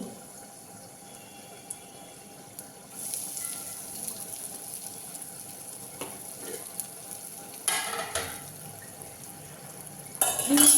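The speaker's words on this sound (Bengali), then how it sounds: "আর যেটা দেবো হচ্ছে পাঁচ ফোড়ন পাঁচ ফোড়ন দেবো আর দেবো একটু হিং" Panch phoron and asafoetida dropped into hot oil, a soft steady sizzle that swells after a few seconds, with occasional clinks and a louder burst near the end, no one speaking.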